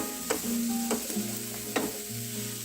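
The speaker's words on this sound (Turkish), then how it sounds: "önce mantarları tavaya aldım ki şöyle bir döndüreyim yumuşasın" Mushrooms sauté in a pan, a low, continuous sizzle broken by a few light scrapes as they are turned, fairly close and without voices.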